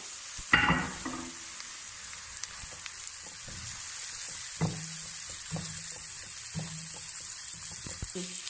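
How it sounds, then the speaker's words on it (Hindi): Chopped ginger and onion fry gently in butter, a soft continuous sizzle under a few scattered spoon taps and stirring knocks against the pan, fairly quiet throughout. "अब इसमें हमारा चला जाएगा सिर्फ और सिर्फ अदरक, जो हमने चॉप करके रखा था, सिर्फ वो डाल देंगे कि वो भी थोड़ा सा साथ भून जाए"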